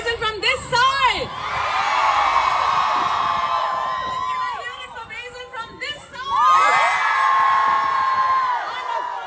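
A festival crowd cheers and whoops for actor Basil Joseph at the Midland Indian Fest UTSAU 2025, with loud waves of yells and children's shouts that rise, dip and surge again, mixed with voices.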